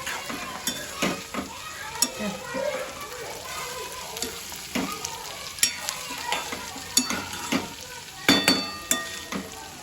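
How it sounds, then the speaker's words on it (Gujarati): Sliced spiny gourd (kantola) frying in a pan with a steady sizzle, broken by repeated sharp scraping and clinking strokes of a spoon stirring, close and fairly loud, with a voice talking now and then. "એટલે કંટોલા જો ગળતા જાય છે આવી રીતે. બ્રાઉન કલર થોડો થોડો થતો જાય છે."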